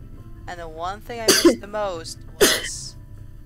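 A quick sneeze bursting out between lines of game dialogue, sharp and close, with speech around it.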